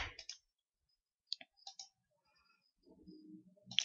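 A computer mouse gives a few quick, faint clicks while resetting an Epson L380 printer with a resetter program, separated by silence, with a brief soft rustle near the end.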